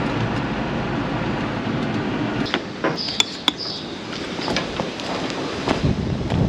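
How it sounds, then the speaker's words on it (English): Strong gusty wind roars across the open ground of a farm on a harsh day, a steady broadband rush buffeting the microphone, with a few sharp knocks and clanks cutting through briefly. "The wind is absolutely blowing its guts out"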